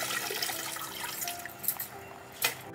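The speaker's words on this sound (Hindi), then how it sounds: "तो इसको हम धो धो के रख लेते हैं।" Running water splashes steadily as taro leaves are rinsed by hand, a continuous close wash with a few brief louder splashes and no talking.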